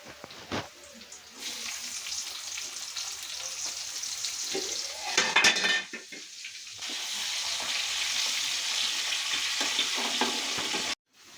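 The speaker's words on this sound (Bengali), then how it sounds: "লম্বা পিঁয়াজগুলো ঢেলে দিবি" Long sliced onions hit a hot pan and fry with a loud, steady sizzle, broken by a burst of stirring and scraping midway before the hiss settles back in, close and with no talking.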